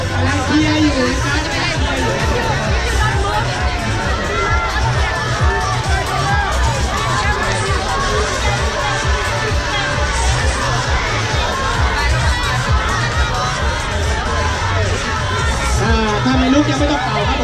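Spectators at a beach football match, the final of the 12th Pattaya Beach Football Cup 2017 in Thailand between Holland and Norway, make a steady roar of chatter, shouts and cheering, with a commentator talking over it throughout.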